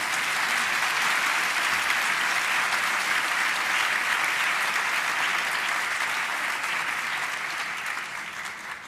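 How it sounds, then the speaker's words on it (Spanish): An audience at a school welcome ceremony bursts into dense, sustained clapping that holds steady for several seconds before tapering off near the end. "Normalmente ahora un poquito de aplauso,"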